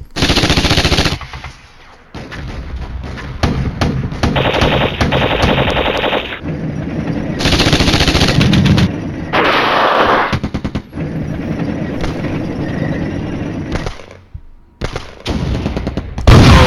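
Sustained machine-gun bursts and gunfire rattle loudly and close in a Flashpoint Campaigns battle, broken by short pauses, with heavier artillery-like impacts mixed through the rapid fire.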